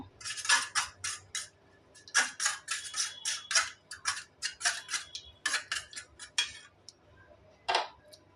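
Two eggs being beaten in a bowl for chicken burger coating: quick, rhythmic clinking of a fork or whisk against the bowl, close and steady in bursts with brief pauses.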